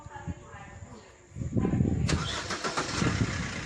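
A tractor engine cranks and catches after about a second and a half, then settles into a rough, rumbling run with clattering peaks, while people talk over it nearby.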